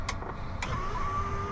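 The electric sunroof shade in the cab of a 2022 Volvo FH16 Series 5 truck opening, a couple of soft clicks followed by a steady motor whine that runs on to the end.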